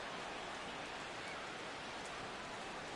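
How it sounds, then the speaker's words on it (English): Rain in the ship deck stage of a video game, a steady dense hiss of falling water, even and unbroken, faint and heard alone. "I hear rain on that game in my headsets"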